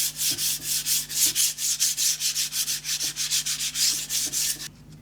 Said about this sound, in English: the areas that you've done sanding with the grain